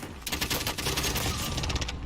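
Rapid bursts from a fast-firing 9mm gun in Call of Duty Warzone, a dense rattling stream of shots at moderate volume with no talking over it.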